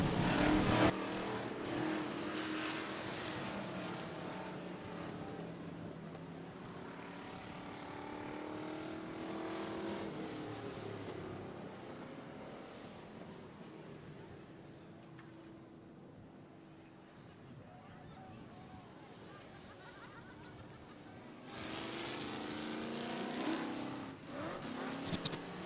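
Pure stock race cars roaring around a dirt oval in a POWRi race, a steady engine drone swelling and fading as the pack passes, with an announcer calling the race over it.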